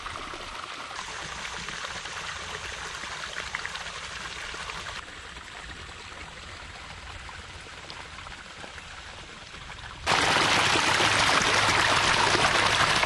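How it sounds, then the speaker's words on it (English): Steady rushing splash of water from a well pump pouring continuously into a pond, close and loud, growing noticeably louder and brighter near the end. "the well pump is on full blast filling the pond"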